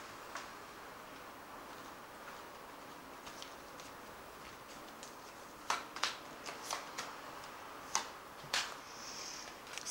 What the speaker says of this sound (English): So I'm going to just draw 3 cards from the Archangel Tarot.